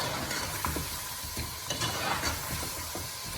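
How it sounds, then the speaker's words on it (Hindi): Potatoes, about a kilo, tossed and stirred into a pot of cooking Pakistani degi-style aloo gosht, giving steady scraping stir strokes over a soft continuous sizzle, close and fairly quiet. "फिर इसमें हम डाल देंगे 1 kg मैंने पोटैटो लिए थे, वो इसमें डाल देंगे।"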